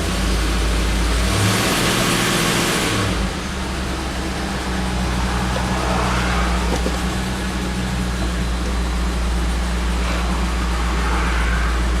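A 2000 Land Rover Discovery II with a faulty MAF sensor idles in gear under light load, giving a loud, steady engine hum with a brief deeper surge early on, close to the microphone.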